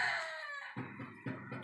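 A well-built, pedigreed rooster crows close by, one short call followed by a couple of pulsing notes, with no voices around it.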